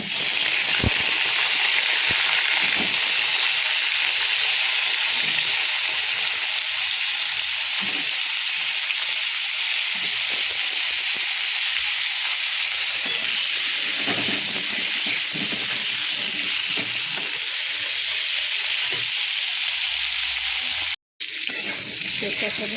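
Pointed gourd and potato pieces sizzle steadily in hot mustard oil, a constant close crackling hiss that lasts throughout, with a voice speaking over it now and then.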